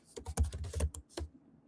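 Typing on a computer keyboard, a short close burst of rapid key clicks in an irregular rhythm that stops after about a second.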